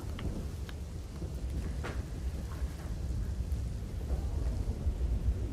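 Heavy monsoon rain pours steadily in Gujarat during a thunderstorm, a dense continuous hiss with low rumbling thunder rolling underneath throughout.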